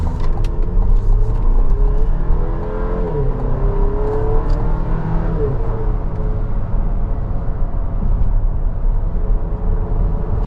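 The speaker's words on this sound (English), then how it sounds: "let's go take this thing on a drive and see how it handles out on the road" A 2026 Chevy Traverse RS AWD cruises on the road, its engine humming steadily with rising and falling tones as it accelerates, mixed with continuous road and tire noise heard from inside the cabin, with no talking.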